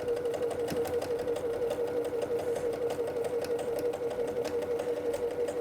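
A domestic sewing machine stitches a patchwork seam, running in one continuous steady whir with a fast needle rhythm and no break or talk, close and clear.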